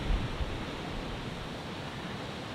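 Ocean waves rolling in and crashing on rocks at night produce a steady, fairly faint wash of surf noise with no distinct individual breaks and nobody speaking.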